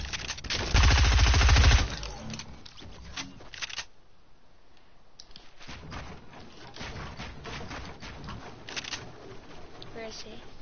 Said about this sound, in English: Because I'll use the SMG on him.